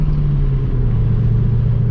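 A 2015 Chevrolet Camaro SS 1LE V8 engine rumbles steadily while driving and shifting normally, a loud, even low drone throughout with no voices.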